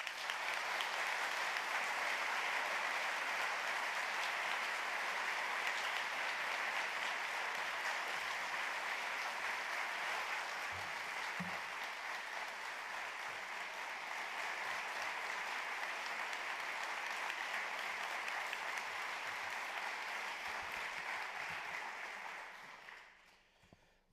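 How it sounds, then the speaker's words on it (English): Long, sustained audience applause at a community information night on the Indigenous Voice to Parliament in Kooyong, a dense even clapping that holds for over twenty seconds before tapering off at the end, with no talk. "I'm glad that was a long clap."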